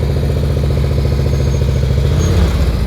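A motorcycle engine idles steadily under light preload during slow-speed riding practice, giving a close, continuous low throbbing pulse with even rhythm and a faint clatter, no talk over it.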